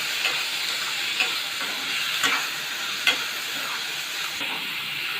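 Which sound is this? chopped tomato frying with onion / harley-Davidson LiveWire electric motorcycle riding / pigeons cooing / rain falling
chopped tomato frying with onion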